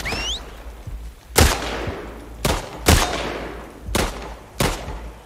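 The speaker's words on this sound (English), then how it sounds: "Who's shooting? Who's shooting?" Gunfire in The Last of Us Part 2, five heavy shots spaced about a second apart, each a sharp crack with a decaying echo, over quiet ambience and no talk.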